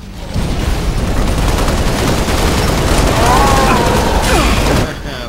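Rapid, overlapping grenade blasts and gunfire in the Halo Reach video game on Legendary difficulty, a loud continuous barrage of booms for several seconds with a voice talking over it.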